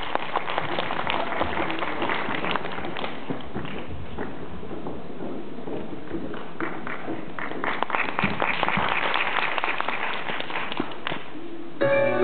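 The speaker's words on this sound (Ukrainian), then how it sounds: "Оплески!" Audience applause at a children's music festival-competition concert, a steady wash of many hands clapping that carries on for the whole stretch and swells slightly near the end.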